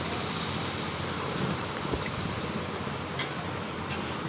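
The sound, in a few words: warm water poured into fish curry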